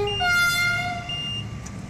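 A loud, sustained two-tone horn of an RABe 511 double-deck train in Train Simulator 2020 blares steadily for nearly two seconds over a low mechanical rumble, with no talking.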